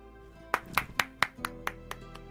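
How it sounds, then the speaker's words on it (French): Hand claps from a streamer during a co-op session of It Takes Two: about eight sharp, close claps in an even rhythm, fading slightly toward the end, with no talking. "Tu veux qu'on t'entende applaudir ?"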